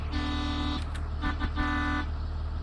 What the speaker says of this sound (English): Oh, both of these also have air horns.